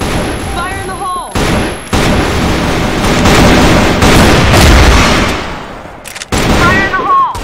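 Loud gunfire and explosive blasts from the Crossfire video game during a ranked search-and-destroy match, with dense bursts of shots, a sudden cutoff, a quiet gap, then more firing.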